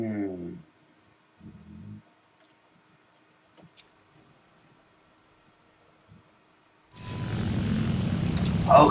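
Aircraft engine during a landing in War Thunder arcade battle on a Berlin map: brief tonal bursts and near silence at first, then a steady engine roar rising loudly over the last two seconds.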